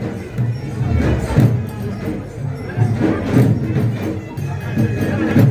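A crowd mills around a Vithoba palanquin procession on its route, a steady murmur of many voices with scattered thumps and shuffling, while someone talks close by over it.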